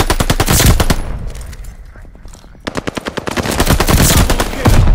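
Rapid automatic gunfire in Call of Duty: Vanguard hardpoint play, loud and close, with dense bursts that briefly thin into spaced single shots before resuming as sustained fire.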